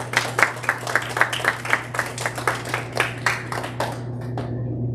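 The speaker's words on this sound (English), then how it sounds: "Let's go ahead and give them a nice round of applause" A small group at a team event claps for the girls' team, each distinct clap landing in a loose, fairly even rhythm before thinning out and stopping near the end, with a low electrical hum underneath.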